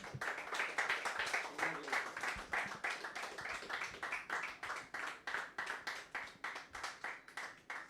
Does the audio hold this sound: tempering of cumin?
no